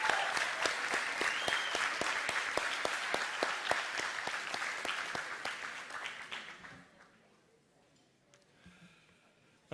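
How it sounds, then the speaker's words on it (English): Banquet crowd at an alumni reception dinner giving a round of applause to international entertainers, steady close clapping for about six seconds that then tapers off into quiet room noise. "So I think they deserve a round of applause, all the entertainers from different countries."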